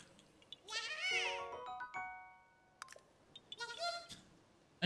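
A cat meows nearby, a drawn-out wavering meow followed by a shorter second call, over quiet game sounds and with faint clicks between the calls.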